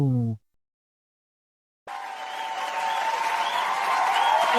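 After a short voice and a second of silence, a crowd's applause starts up and builds steadily, a dense wash of clapping with a faint tonal sound mixed in.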